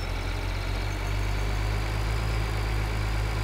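A tractor engine in Farming Simulator 2013 runs steadily, a loud, even low drone with no change in pitch or rhythm.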